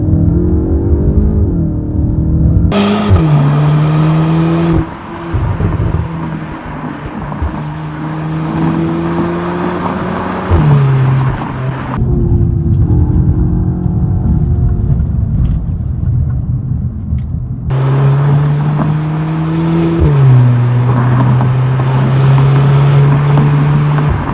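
A Cupra Formentor crossover driving in its sporty Cupra mode roars loudly up through the gears, each rising pull ending in a brief drop at the shift, repeated several times over steady road noise.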